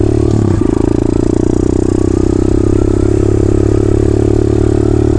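Kawasaki KLX 110cc pit bike with a 143cc big bore kit, engine running at a loud, steady idle with a strong low buzzing drone and a brief clatter near the start.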